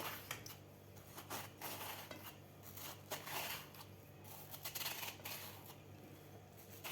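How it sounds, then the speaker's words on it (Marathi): A knife slices and scores through a watermelon with a run of close, crisp crunching cuts in an irregular rhythm, moderately loud against a quiet background. "आता आपल्याला हे टरबूज कापून घ्यायचं आहे"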